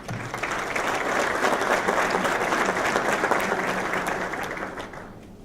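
Steady, full audience applause at a telecom industry panel event, sustained dense clapping from a large crowd that fades gently at the end.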